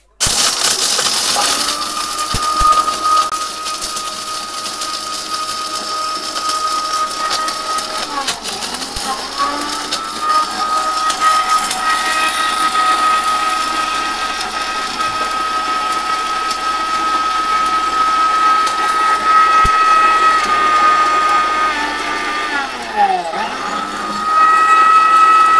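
An electric blender machine runs continuously with a loud, steady motor whine, its pitch dipping briefly as the load shifts, sustained for about twenty-five seconds.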